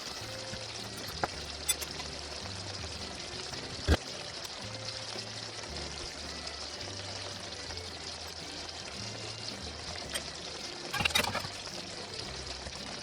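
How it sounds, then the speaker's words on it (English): Prawn pasta sauce with alcohol simmering and reducing in a pan gives a steady, low bubbling hiss, fairly quiet and continuous, broken by a few faint clinks and a short clatter near the end. "now that our sauce is simmering away"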